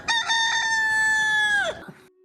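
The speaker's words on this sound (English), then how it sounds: "The morning sun breaks. You hear the cockerel outside" A cockerel outside crows once at morning, loud and close, one long sustained call that falls away at the end, with nothing else around it.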